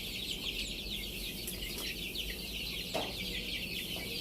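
A paralysed chicken chick clucks softly and steadily up close, short faint calls over a quiet farmyard background with no talk.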